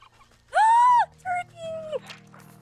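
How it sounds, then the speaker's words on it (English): A turkey in the Wytchwood video game gobbling: a loud warbling, pitched call followed by two shorter wavering cries over a quiet low game tone. "Turkey!"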